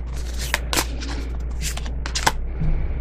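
Tarot cards are shuffled by hand in a quick run of sharp riffling snaps and slaps, several crisp bursts close by over a low steady hum, with a faint voice near the end.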